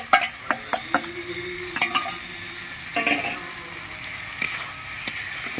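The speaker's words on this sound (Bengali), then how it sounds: "ভালো করে সব আমি কষিয়ে নিচ্ছি" Pointed gourd and Gobindobhog rice, both fried beforehand, frying in spiced oil with a steady sizzle, repeated scraping stirs and clinks of a spatula against the pan, close by.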